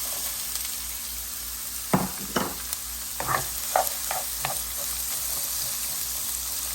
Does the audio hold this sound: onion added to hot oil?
yes